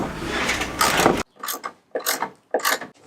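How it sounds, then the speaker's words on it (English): A screw is driven to fasten down the box of an Airaid cold air intake on a Hemi engine, heard as a burst of mechanical rattling followed by three short, close ratcheting strokes. "We have one more screw to put right here to screw down the box."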